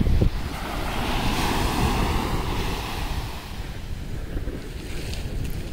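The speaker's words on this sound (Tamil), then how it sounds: "கடல் கோபால்புரம் பீச்சில் என்ன மாதிரி அலை பாருங்க நைட்டில்." Big ocean waves crash and roll at night on Gopalpur beach in Odisha, a loud continuous roar of surf with heavy wind buffeting the microphone, no voices.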